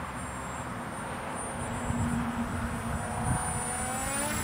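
A Lazertoyz Skimmer RC flying wing model aircraft flies slowly overhead in light wind, its small electric motor giving a steady, thin high-pitched whine over a low rumble of wind buffeting the microphone throughout.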